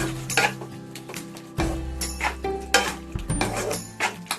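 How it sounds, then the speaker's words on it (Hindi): Chilli jackfruit stirred with sauces in a pan over a low flame, with a spoon scraping and clinking against the metal in quick irregular strokes over a faint sizzle. "अब इसे लो फ्लेम पे अच्छी तरह मिक्स कर ले रहे हैं।"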